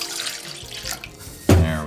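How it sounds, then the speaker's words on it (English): A cup of water is poured into a bowl for glitter slime, with soft handling noises and running water, then a sudden louder splash near the end. "we're going to measure 1 cup of water into each of our bowls"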